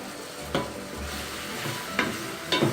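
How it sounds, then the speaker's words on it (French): Butter melts in a frying pan with a continuous gentle sizzle, and a few close utensil scrapes and taps land against the pan. "C'était juste pour chauffer le beurre un peu qui fonde dans la poêle"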